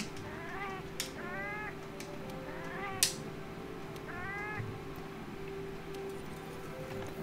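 A cat companion in the Monster Hunter World video game meows several times in quick pairs of rising-falling calls, with a few sharp clicks, over a steady hum of game ambience.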